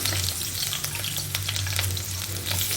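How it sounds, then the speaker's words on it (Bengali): Blended onion paste hits hot oil in a pan for a dried-fish curry and gives a strong, continuous, close sizzle with a low steady hum underneath. The sound lasts the whole short stretch without any voices. "তেলটা গরম হয়ে গেছে, পেঁয়াজ কষিটা দিয়ে দিব।"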